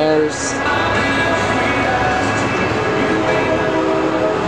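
An MTS Coaster 657 commuter train leaves the yards past the Gaslamp district, sounding a loud, sustained horn over the heavy rumble of the train, close by and continuous.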